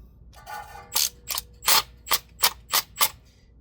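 An impact wrench set to its lowest setting tightening rear brake bolts on a 2022 Mitsubishi Outlander, a close run of about seven sharp rattling hammer bursts in quick, evenly spaced succession after a brief whir.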